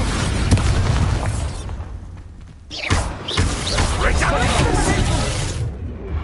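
An Expulso spell in a Hogwarts wizard-duel game goes off as a loud, close booming explosion with bursts and thuds, surrounded by dense spell effects and duel chatter.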